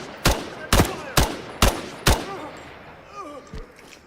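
Five sharp gunshots ring out in steady succession in the tactical extraction shooter Incursion: Red River, each loud and close with a short echoing tail, followed by a softer single thud.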